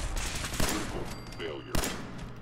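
Slow-motion VATS gunfire in Fallout 4, two sharp shots standing out over a low rumbling game backdrop with a faint whirring tone.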